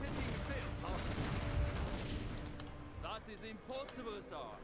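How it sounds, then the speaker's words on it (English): Artillery bombardment from the video game Total War: Fall of the Samurai booms and crackles in dense, overlapping blasts that later thin into scattered reports, with someone talking over it. "They have to bombard it even further."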